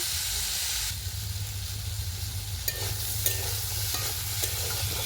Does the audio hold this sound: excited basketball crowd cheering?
no